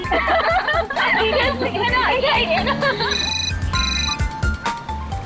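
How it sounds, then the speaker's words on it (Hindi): A phone ringtone chimes in repeated bursts after chattering voices, the tones bright and electronic, with people talking over the start. "मम्मी का फोन है।"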